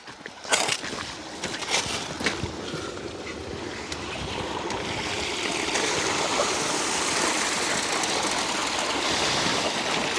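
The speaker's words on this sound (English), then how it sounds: "I'm just going to turn the water back on, rinse it all out." Water rushes steadily through a gold prospecting sluice, rinsing the gathered material into a tub below. The gushing is loud and continuous and grows fuller partway through, with a few clunks near the start.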